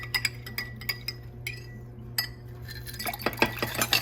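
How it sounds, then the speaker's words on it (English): Ice cubes clink and rattle in a glass of Vietnamese iced coffee, starting as sparse sharp taps and building into a quicker cluster of bright clinks over a low steady hum. "And then get some of that ice in there."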